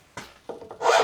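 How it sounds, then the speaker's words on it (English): A file rasps across a wooden saw handle being reshaped, with three short strokes, the last one longer and louder, heard up close with no talk. "I'm actually just using a different, less aggressive file"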